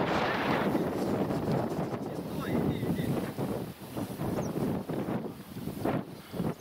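Wind blows hard across an outdoor fishing spot by the water, a steady roaring rush buffeting the microphone with gusty swells, and voices are faintly heard beneath it.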